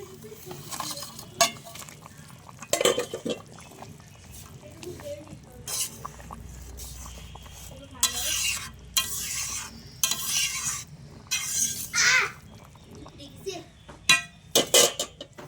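Bhola fish go into a simmering curry and get stirred in a pan, with scraping stirs, soft sizzling and occasional utensil clinks while people speak, a child among them.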